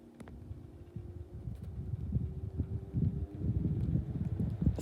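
A grey 1971 Xpelair Taurus T12 12-inch desk fan runs on its low setting, giving a steady close hum with a soft low drone that builds slightly, plus faint irregular ticking from the flywheel rubbing.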